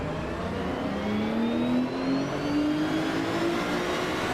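Race cars in Assetto Corsa Evo pull away from a standing start, a steady loud engine drone rising in pitch as they accelerate together, with a Porsche among the field.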